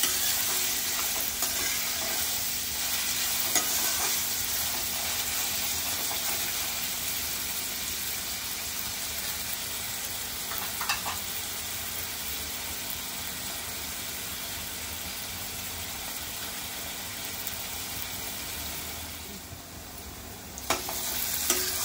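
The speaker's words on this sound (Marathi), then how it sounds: "कांदा थोडा ट्रान्सपरंट होऊन द्यायचा आहे" Onions frying in a pan for a Maharashtrian chicken thali, cooking until transparent, give a steady, close hiss of sizzling that runs unbroken throughout with occasional stirring clicks and no talking.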